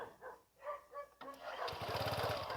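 A small engine cranks and catches partway through, then settles into a steady, loud, chugging idle after a few quiet seconds of low talk.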